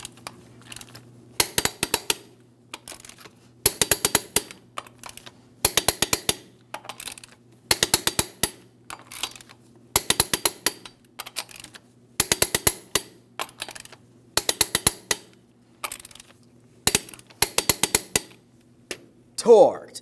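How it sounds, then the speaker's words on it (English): A torque wrench tightening lug nuts on a GMC Sierra 2500 HD wheel gives short bursts of sharp metallic ratcheting clicks, repeating roughly every second, close and fairly loud over a low steady hum. "Let's go ahead and torque each of these lug nuts to 140 foot-pounds in a crisscross manner."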